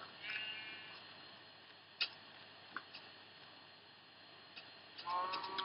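A sheep in Minecraft gives short bleats, one near the start and another at the end, quiet and faint, with a few soft clicks in between against a near-silent background.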